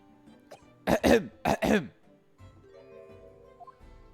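Two short bursts of throat clearing and coughing in the video game The Great Ace Attorney Chronicles, close and fairly loud, followed by quiet low background tones.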